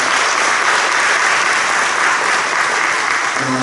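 Audience applause fills a large assembly hall at a church general-assembly candidates' policy forum, steady and dense clapping from many hands, sustained without a break for several seconds.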